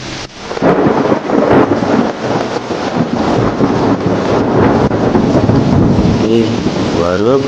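Heavy rain pours steadily with deep rumbles of thunder rolling through it, a loud, dense wash of storm noise throughout, with a few faint tonal sweeps near the end.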